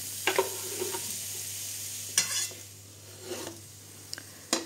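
A spoon stirs stewed zucchini and thawed frozen Brussels sprouts in a pan, giving a few separate scraping, rasping strokes over a low sizzle, fairly quiet and with no voices.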